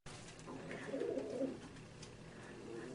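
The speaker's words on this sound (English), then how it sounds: "This is a black Gansel Budapest hen, about 2 years old." A black Gansel Budapest pigeon hen, about two years old, gives a soft, low rolling coo lasting about a second, close by over a steady background hiss.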